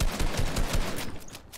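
Shotgun fire in a video game, a loud, dense run of rapid booming blasts that fade off at the end.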